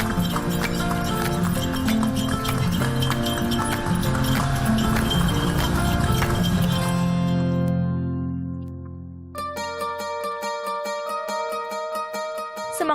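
A horse pulling a traditional andong carriage in Solo, Central Java, clip-clops with a steady rhythm of hoofbeats. Tonal, melodic music plays throughout, and the sound thins and then resumes near the end.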